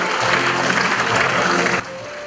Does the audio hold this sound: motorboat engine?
no